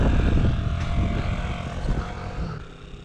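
A scooter engine gathers speed on an outdoor ride, a continuous buzzing drone that starts loud and fades slightly as it pulls away.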